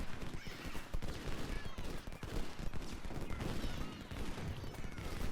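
Massed rifle volleys and artillery canister fire in a Civil War battle at Shiloh in the strategy game Ultimate General Civil War, a dense continuous rattle of gunfire with scattered heavier booms and some background horse noise.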